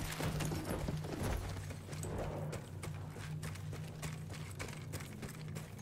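Horse hoofbeats while riding in Battlefield 1, a steady clip-clop rhythm of galloping hooves under a low ambient hum.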